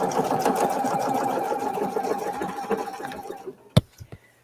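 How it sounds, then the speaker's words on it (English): A PFAFF sewing machine stitches in a rapid, even whirring run for several seconds, then halts, followed by a few sharp clicks close by. "I'm going to do some stitching first before I do anything with my trim"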